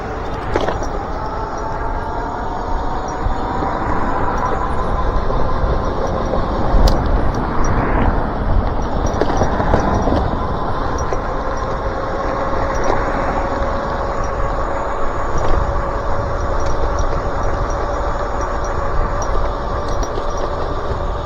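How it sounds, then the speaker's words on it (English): Steady road traffic rumbles around an e-bike rider on a lightly travelled route, a continuous loud wash of passing vehicle and wind noise with a few brief swells as cars go by. "I got a lot of traffic heading my way"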